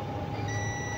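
A continuity tester held to the contacts of an adjustable thermostat sounds one steady, unbroken electronic beep lasting the whole second, loud and close, with a low background hum underneath and no talking.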